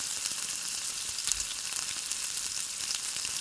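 Ground spice paste sautéing in hot oil with black cumin and bay leaf for a pomfret fish curry, a constant bright crackling sizzle, close and even, with a faint stir or two and no talking.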